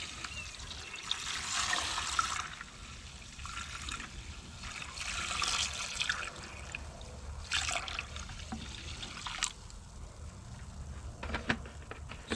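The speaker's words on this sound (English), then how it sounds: "cover it with vinegar." Vinegar is poured into a bucket over the disassembled parts of a Craftsman 5243 bench vise, giving soft, intermittent trickles and splashes that come and go in short bursts at low volume.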